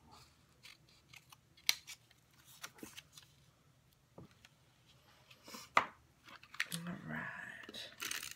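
Scissors snip and trim paper in short, irregular cuts during a planner-decorating session, with faint rustling and handling noises between snips and a brief louder shuffle near the end.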